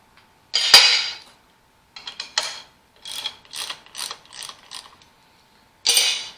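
A ratchet or socket wrench working a connecting rod clamp bolt on an Allis Chalmers WD45 tractor engine: close, sharp clicking bursts in irregular short runs separated by silence.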